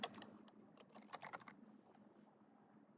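Quiet, rapid keystrokes on a computer keyboard while typing a name into a drawing note in CAD software, a brisk burst of taps that thins out toward the end.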